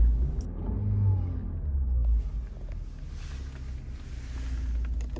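A low, steady 2019 Lexus RX300 engine rumble runs close by, idling evenly with a faint hiss over it.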